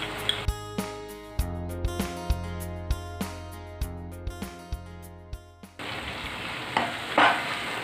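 Jaggery is stirred into winter melon halwa in a pan, with regular scraping spoon strokes in a steady rhythm over a soft sizzle, then a louder bubbling frying sound near the end.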